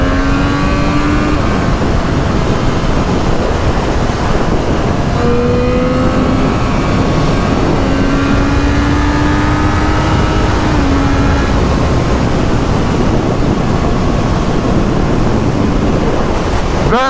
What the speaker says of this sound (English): Engine sounds absolutely amazing.